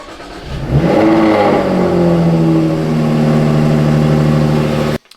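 A healthy Jaguar F-Type V6 P380 fires up and revs cleanly, a loud close rising roar that settles into a smooth steady idle before cutting off abruptly.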